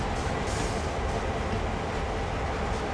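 A train rolls through a switching yard in the video game Train Sim World, a steady, loud rumble of wheels and railcars without pause.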